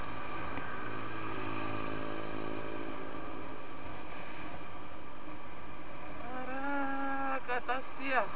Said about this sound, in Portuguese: Caraca, tá certo. Tô de moto